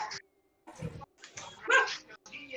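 A Christmas puppy gives a few short, high yips and barks in broken bursts close by, with a person talking over and between them.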